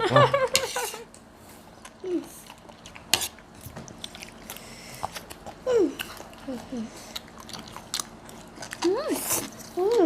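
Close, wet biting and chewing of papaya salad with rice noodles, in irregular bursts, with utensil clinks and a child's and an adult's voices talking and squealing throughout.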